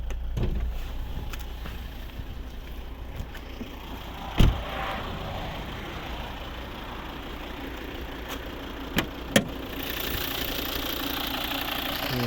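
A 2013 Volvo V60 2.4 D5 diesel engine idling with a steady low rumble and clatter, close by, interrupted by a few sharp clicks.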